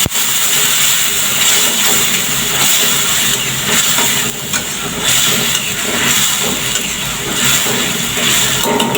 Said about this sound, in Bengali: মশলা কষায় দিচ্ছি